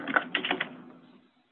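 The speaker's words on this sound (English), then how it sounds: "think I hear her typing" Someone typing on a keyboard, a short burst of several quick key clacks fading out within about a second, fairly close.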